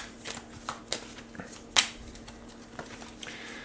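Tarot cards being shuffled during a reading, soft papery riffles and sharp flicks scattered over a few seconds, close and fairly quiet, with no talk.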